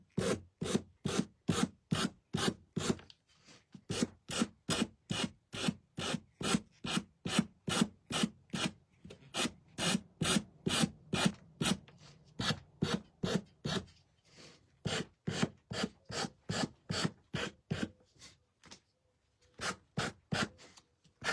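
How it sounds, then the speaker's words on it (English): A sander works over a wooden anchor wall hanging, making rhythmic rasping strokes in a steady back-and-forth pattern. The sound is close and even, with a few brief pauses between runs of strokes. "I need it to bend so that I can get the sander against the wood right here."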